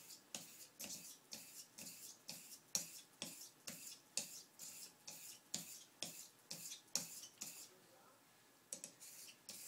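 A straight razor makes quick one-directional, edge-leading honing strokes on a Naniwa 10k stone with slurry, each a short close wet swish in a fast even rhythm, about twenty in a row with a brief pause near the end.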